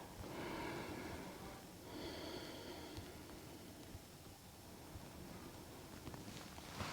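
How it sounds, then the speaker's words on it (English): Slow, deep breaths during a meditation break, each long inhale and exhale close and soft against a faint hiss of background noise. "Take 2 deep breaths here."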